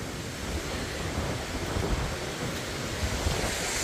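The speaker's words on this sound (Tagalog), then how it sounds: "Lakas ng hangin." Strong wind roars continuously with a broad hissing rush at Aw-asen Falls, Sigay, Ilocos Sur, mixed with the wash of water, loud and unbroken throughout.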